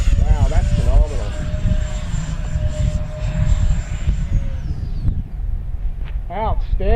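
A JP Hobby 70mm all-metal electric ducted fan RC jet at about one-third throttle gives a steady high turbine whine with roaring airflow, loud and close, shifting pitch as it passes, with voices calling out under the noise.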